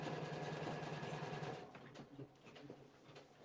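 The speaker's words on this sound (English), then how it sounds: "we're stitching on the pink hoodie" An embroidery machine stitches onto a pink hoodie with a quiet, continuous mechanical whir. After the first second and a half the hum grows softer and more uneven, with light ticking beats.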